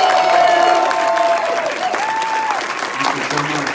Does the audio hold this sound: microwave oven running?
no